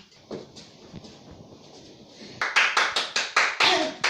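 After some quiet rustling, a run of about eight sharp hand claps from a cabaret performer comes in a steady rhythm, close and loud.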